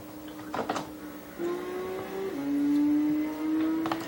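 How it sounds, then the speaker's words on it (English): Engine note of a red Nissan R34 tuned to 499 performance points at Monza in a racing video game: a steady drone that rises in pitch through shifts, with brief louder bursts, no talking. "I'm in that red Nissan R34. And this is race 4 at the Autodromo Nazionale Monza."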